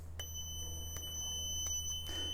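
A 7-port open door alarm unit with no sensors or cables installed sounds a steady high electronic tone, with thin repeated clicks or chirps and a low hum underneath, no talking.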